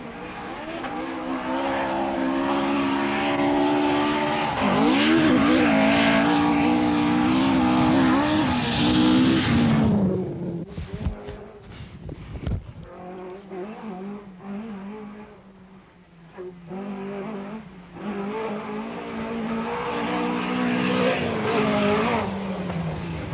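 A rear-wheel-drive Ford Escort rally car races with a loud, high-revving engine wail for about ten seconds. Then the revs drop into choppy bursts and shifts, and the engine climbs again to a strong, sustained roar.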